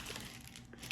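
Soft, close crinkling of a new modeling clay pack's plastic wrapper being handled, a faint quick rustle with small crackles.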